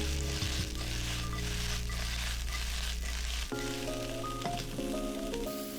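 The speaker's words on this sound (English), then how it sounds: "Stir fry until they are starting to soften but still vibrant." Vegetables stir-fry in a hot pan for chicken stir fry, giving a loud continuous sizzle with a low rumble that shifts partway through as the food is moved around, with no talking.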